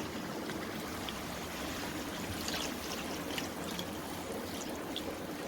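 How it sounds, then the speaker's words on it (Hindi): Four cups of milk pouring steadily into a pot of makhandi halwa, a continuous soft liquid stream with light trickling, close and alone without talk. "ये मैंने 4 कप दूध इसमें डाल दिया है।"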